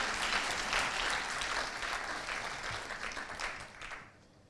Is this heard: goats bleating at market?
no